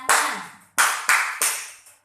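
Four sharp hand claps from a group, spaced about a third of a second apart and keeping time with a children's sing-along song, each clap decaying quickly with no voices in between.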